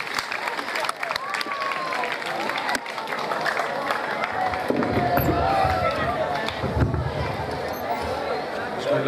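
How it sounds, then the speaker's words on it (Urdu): Schoolchildren clap for a teacher's retirement party at a high school, a sustained ragged patter of many small hands in a hall, mixed with crowd murmur and a few voices. "تالیاں بجائیں سارے بچے"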